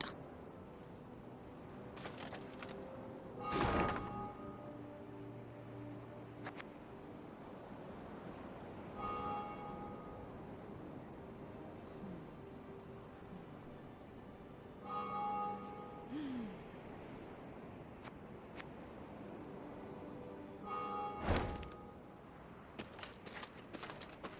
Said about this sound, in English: Travelling the high road, they heard the bells of a temple to Mother Melitele